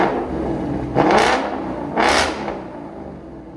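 A Ford Mustang GT 5.0L V8 with a Corsa Xtreme cat-back exhaust is revved twice in quick bursts about a second apart, each a loud rising roar that settles back to a rumbling idle.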